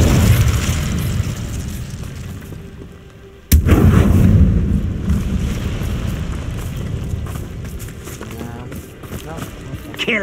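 In Hogwarts Legacy an Incendio fire spell is cast. A sudden sharp blast breaks the noisy combat bed with a burst of roaring flame, and voices and battle noise run on around it.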